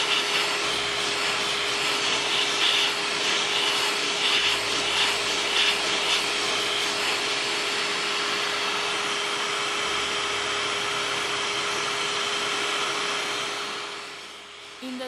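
A hot air rework nozzle heats the motherboard of a water-damaged Samsung S21 Ultra phone, giving a steady, loud blowing hiss with a faint tonal hum that continues for about fifteen seconds before tapering off near the end.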